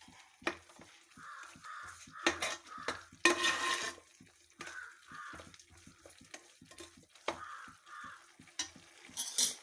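Fish masala stirred and fried in a pan makes a series of scraping, clattering spoon strokes with bursts of sizzle between them. Crows caw repeatedly in the background.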